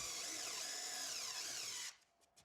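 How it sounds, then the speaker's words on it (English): A power drill bores a hardware hole into a soft pine dresser, a loud, steady whirring grind lasting about two seconds before it cuts off, followed by a few faint knocks. "I had to drill new hardware holes"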